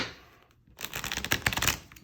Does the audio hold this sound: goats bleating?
no